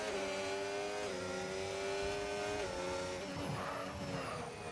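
A McLaren race car in a wet-weather racing video game, its engine holding a loud, steady high-revving whine with shifting pitch throughout, close and continuous, with no talking.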